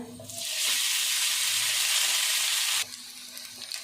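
Cooked rice tipped into hot oil with asafoetida for curry leaf rice, setting off a loud, even sizzling hiss that holds for about two seconds and then drops abruptly to a faint crackle.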